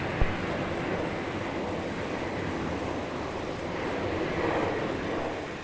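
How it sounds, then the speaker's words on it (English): A white twin-engine, high-tail jet with a stripe at Brisbane Airport produces a steady, broad engine roar that holds at a moderate, fairly distant level throughout, with no talk over it. "It's a twin engine, high tail jet, white with a stripe on it."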